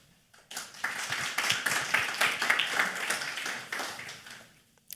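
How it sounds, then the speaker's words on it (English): A small conference audience claps to welcome a speaker at a Qt World Summit session, a modest round of applause that swells quickly, holds for a few seconds and fades out. "So please give him a round of applause."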